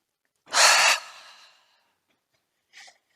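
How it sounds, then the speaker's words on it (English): One forceful open-mouth exhale during a yoga class, a breathy rush that trails off, followed a moment later by a second short, softer breath, close and alone. "Take some open mouth exhales"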